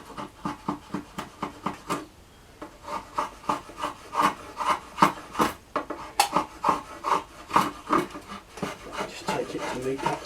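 Drawknife or rasp strokes shaving the soft sapwood of a yew bow stave, a steady run of close, rhythmic scraping passes with a short pause partway, no talking.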